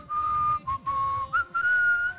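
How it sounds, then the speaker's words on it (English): A clear, steady whistled melody carries a sung tune in long held notes with short breaks, close and loud, with no talking over it. "You whistled that bit."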